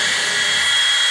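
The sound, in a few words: power drill drilling into wood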